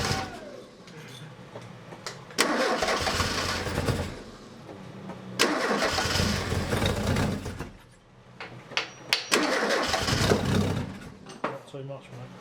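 Ford Fiesta Mk1 engine revved by throttle: three loud surging bursts of revving with quieter idling between them, close by, with people talking over it.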